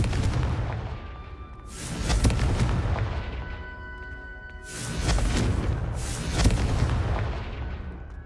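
Loud, booming blasts from the Confringo fire spell in the video game Hogwarts Legacy, three heavy explosions with rumbling tails spaced a couple of seconds apart, standing alone without talk.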